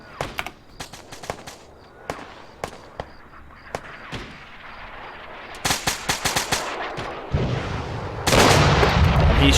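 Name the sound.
mortars firing in Arma 3 video game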